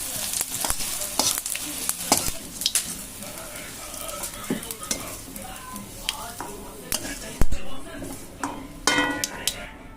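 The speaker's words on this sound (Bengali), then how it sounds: "এই যে আমার উচ্ছেটা কিন্তু বেশ সুন্দর করে ভাজা হয়ে গেছে" Bitter gourd fries in hot oil with a continuous close sizzle, punctuated by frequent metallic clinks and scrapes of a utensil stirring against the pan.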